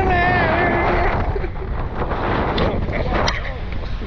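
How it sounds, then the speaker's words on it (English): Strong wind buffets the microphone continuously while paragliding over Bucaramanga, Colombia, a loud broadband roar with gusty swells throughout. "But I guess the wind won't allow us to land."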